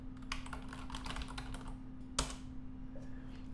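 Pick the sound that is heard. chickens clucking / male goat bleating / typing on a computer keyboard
typing on a computer keyboard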